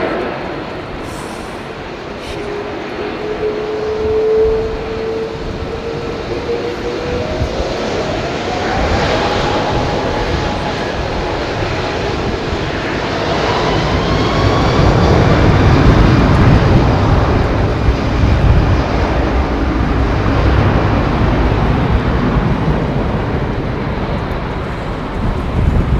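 A Boeing 777 with Rolls-Royce Trent 800 engines starts taxiing at Heathrow, giving a loud, close, sustained engine roar with a rising whine that swells midway.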